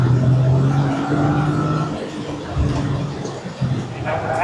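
A 2025 Toyota GR Corolla pulls hard on an SCCA autocross course, heard from inside the car. The engine tone rises and then drops away while a voice speaks over it.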